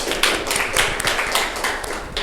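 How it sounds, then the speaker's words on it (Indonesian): An audience in a classroom claps hands together, a brief, dense burst of close, crisp applause with uneven rhythmic peaks. "Mari kita beri tepuk tangan."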